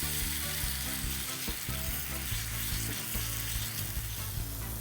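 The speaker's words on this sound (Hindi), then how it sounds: "अगर आपको और भी गला हुआ बैगन का भरता चाहिए तो इसे आप कुछ देर तक भून लीजिए।" Mashed eggplant baingan bharta fries in a pan with a steady, close sizzle and occasional stirring scrapes, alone with no talking.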